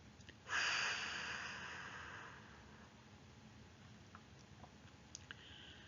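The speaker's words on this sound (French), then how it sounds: "Soufflez fort par la bouche pour chasser les tensions accumulées dans votre ventre." A single strong breath pushed out through the mouth during a relaxation exercise, starting abruptly with a loud airy rush and then fading slowly over about two seconds. After it, only quiet room tone and a few faint clicks remain.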